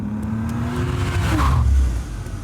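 A car engine revs and accelerates in a carjacking video game, a steady close motor drone that swells into a louder roar and then eases back.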